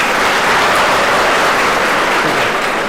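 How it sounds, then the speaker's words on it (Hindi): Loud, dense applause from a debate audience, steady clapping throughout with no voices over it. "तालियां"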